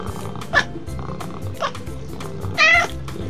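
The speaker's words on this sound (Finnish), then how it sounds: "Tämä on kisu." A toy cat lets out three electronic meows, short, bright and spaced about a second apart, over a steady background jingle, with the last meow the loudest and longest.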